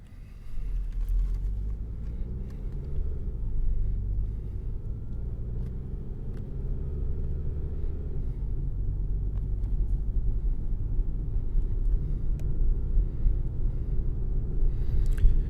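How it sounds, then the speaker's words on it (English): A car drives forward at night with a steady, low road rumble and engine drone. The sound is heard from inside the cabin and holds constant throughout, with no talk. "And now we're going to drive forward."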